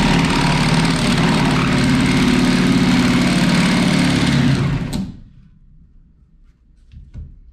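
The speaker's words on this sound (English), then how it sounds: "Now we'll just cut this out with a sawzall." A reciprocating saw cuts through a camper wall in a loud, steady buzzing drone lasting about five seconds, then stops abruptly, leaving only faint handling noise.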